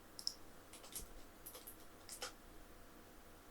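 Faint, sparse clicks of typing on a computer keyboard, a handful of light taps scattered over a few seconds against a quiet background.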